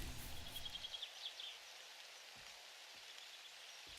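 Rain falling in the game 7 Days to Die, a faint steady hiss of rainfall with a few soft patters, heard alone without voices.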